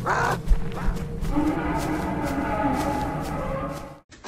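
A cow lets out a long, low moo that drones steadily for a few seconds, loud and close, with a brief rustle at the start.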